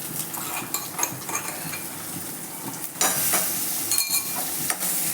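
Ginger, garlic and chili paste sizzles loudly in a pan for a rice-fenugreek curry. A spoon stirs and scrapes against the metal in irregular clinks, and the frying grows louder partway through.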